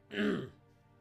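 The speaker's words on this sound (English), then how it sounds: "Nothing beats coughing directly into microphone." A single short, harsh cough or throat clear, loud and close to the microphone.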